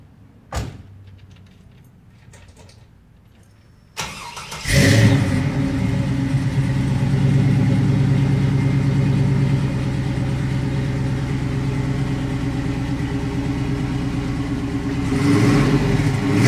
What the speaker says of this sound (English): I'll start the car up and let you hear it.